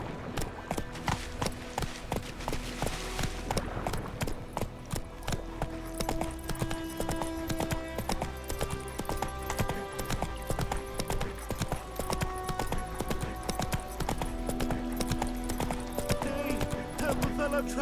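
Horse galloping in The Witcher 3, a fast rhythmic clip-clop of hooves that runs throughout, with jingling tack and a game music backdrop under a brief spoken line.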